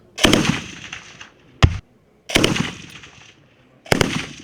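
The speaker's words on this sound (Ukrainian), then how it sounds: "навчає стріляти з автомата Калашнікова" Kalashnikov automatic rifle fire rings out on a shooting range in three loud bursts with a single sharp shot between them, each echoing briefly before silence.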